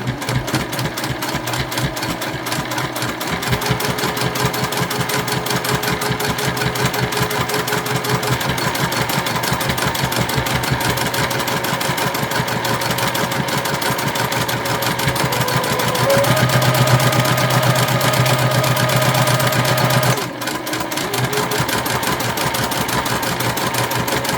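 A sewing machine runs a long, even stitch along a cotton tote bag handle, its needle ticking rapidly and steadily for over twenty seconds with a brief pause and change near the end.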